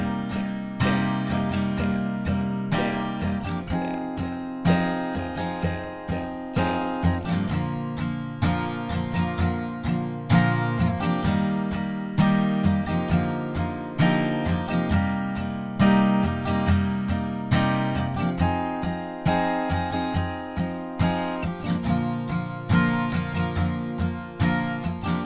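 Basic strummed guitar chords for a song play continuously for about 25 seconds. Dense, full strums follow a steady pattern, and no one speaks.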